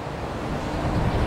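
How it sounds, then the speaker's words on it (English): Wind rushes steadily across the microphone, a dense, even roar with no voices. "It's really windy right now."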